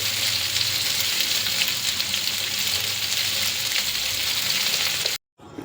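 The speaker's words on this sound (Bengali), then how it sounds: "আবার কিছুটা তেল দিয়ে এই গাঠি কচুগুলো ভেজে নেব।" Taro pieces with a pinch of turmeric fry in hot oil in a pan, giving a loud, dense, continuous sizzle that cuts off abruptly near the end.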